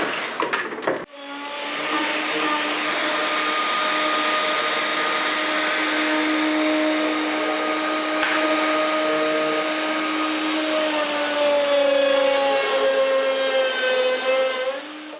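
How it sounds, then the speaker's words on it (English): A router fitted with a 35 mm bit drills cup hinge holes guided by a jig and rail, producing a steady, loud, high-pitched whine that runs without a break for about fourteen seconds after a sharp start. "I've got a 35 millimeter bit installed in my router"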